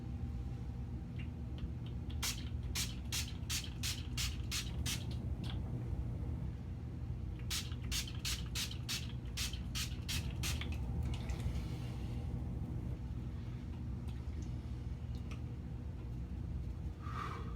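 A spray bottle is pumped over horror clown makeup in two quick runs of about seven sharp, hissing spritzes each, close and crisp over a steady low room hum.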